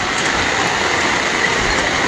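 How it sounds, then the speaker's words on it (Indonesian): Heavy rain pouring down during a flash flood and landslide in Sibolga, Tapanuli Tengah, a steady dense hiss filling the whole stretch with no break. "Hujan semakin deras."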